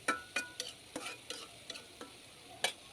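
Hilsa fish head and yardlong beans are stirred in a frying pan, with sharp, irregular spatula scrapes and clacks, around ten strokes over soft sizzling, close and without talk.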